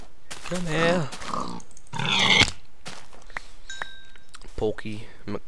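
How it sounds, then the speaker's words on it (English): Pig grunts and squeals in Minecraft, a few short close oinks interspersed with a person talking over them and soft game sound effects. "Pig."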